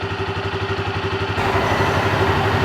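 A Yamaha Grizzly 300 ATV engine fitted with an aftermarket carburetor idles steadily up close, a loud even chugging pulse that grows slightly fuller partway through.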